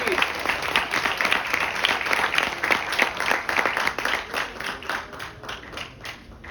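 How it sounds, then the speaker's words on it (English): A lecture hall audience at an Innovation Day celebration gives a long round of applause, dense clapping that holds steady and then thins out toward the end. "Can we have a huge round of applause, please?"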